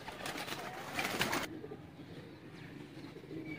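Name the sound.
teddy pigeons cooing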